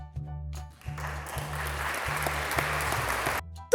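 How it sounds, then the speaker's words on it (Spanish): Hands clapping in applause, a dense burst of claps lasting a few seconds over a low rhythmic music bed, fairly near and steady before cutting off. "Cuanto más rápido las choques, más fuerte será el aplauso."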